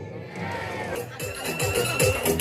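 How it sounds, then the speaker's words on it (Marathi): A crowd at a Diwali-full-moon Deep Sandhya evening event in Kasaba Bawada cheers and shouts in a loud, continuous roar that swells toward the end, with no clear applause claps standing out. "दीदीसाठी एकदा जोरदार टाळी होऊन जाऊ दे"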